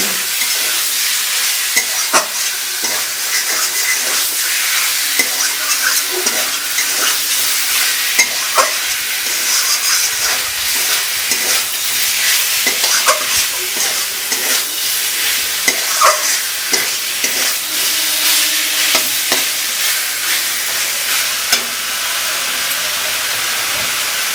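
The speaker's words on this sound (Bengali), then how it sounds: "ভালো করে কষিয়ে নেব" Pork sizzles and fries steadily with ground spices while being stirred in a pan for pork kosha, with a continuous loud hiss broken by frequent scraping strokes of the spatula.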